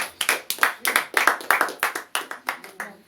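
A church congregation claps loudly in a steady rhythm, about four sharp claps per second in unison, filling the space with no other sound competing.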